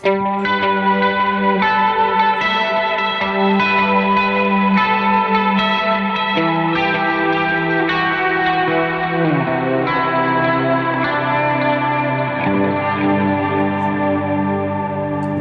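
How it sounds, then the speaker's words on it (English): A sustained electric guitar part through a JHS Notadümblë pedal drenched in reverb, chords ringing and blending into a wash of sound, steady and loud throughout. "if we add just a little bit more reverb on top of that."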